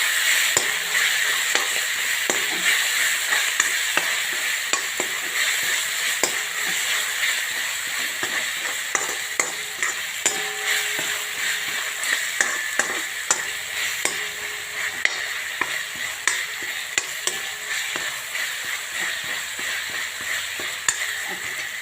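A spoon stirs fenugreek and potato curry in a hot pan, steady sizzling and frying hiss with frequent scraping clicks against the metal, close and continuous for the whole stretch, with no voices.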